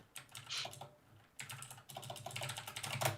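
Close, quick keystrokes clatter on a computer keyboard in uneven bursts with a brief pause, alone without any talk.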